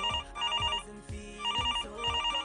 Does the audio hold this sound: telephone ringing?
yes